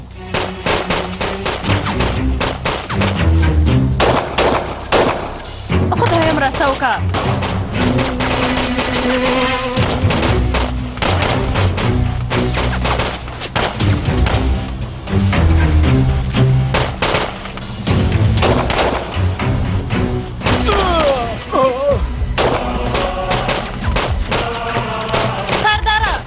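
Bursts of rapid gunfire in a Pashto drama scene, loud and close, with people shouting and talking over the shots throughout.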